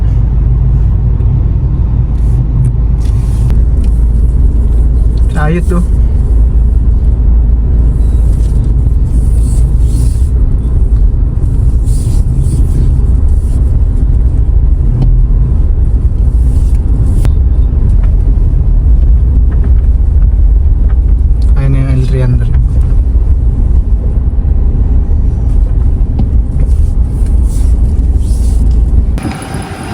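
Road traffic near a market: a steady, loud low rumble of cars and engines continues throughout, with occasional passing vehicles and faint clinks, and a brief word spoken.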